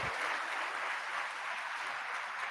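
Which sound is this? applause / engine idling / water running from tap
applause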